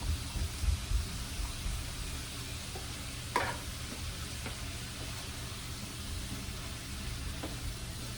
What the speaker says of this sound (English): So I have about a tablespoon of minced garlic that I'm putting right in there.